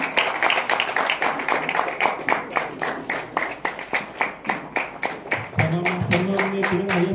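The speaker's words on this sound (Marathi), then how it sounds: "आपण सर्वांनी जोरदार टाळ्या वाजवून त्यांचे स्वागत करूया" Audience clapping at a memorial ceremony for a former MLA and freedom fighter, greeting the arriving MLA Kiran Samant; dense, steady applause with rhythmic claps, joined near the end by a low droning tone or voices.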